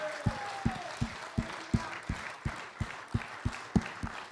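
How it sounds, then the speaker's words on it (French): Congregation at an evening French-language church service claps together in a steady, rhythmic beat, about three claps a second. A voice rises over the start and talk continues beneath the clapping. "Est-ce qu'on peut donner une main d'applaudissement au Seigneur ce soir?"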